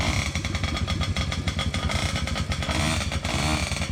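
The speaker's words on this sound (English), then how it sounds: "Today's the day we get the dirt bikes out and fire them up." A dirt bike engine runs loud and close, a rough, rapid, steady putter with a dense low rumble. It holds an even idle throughout with no talk.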